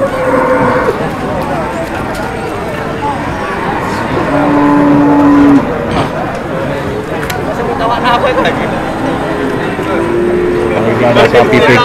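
Cattle moo at a busy livestock market ahead of the sacrifice festival, several loud drawn-out calls rising over a dense crowd murmur as people talk nearby throughout.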